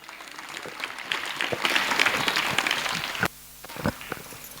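A seated audience, many of them women, applauds at a gathering with dense, steady clapping for about three seconds. The clapping stops abruptly, then a few scattered claps follow.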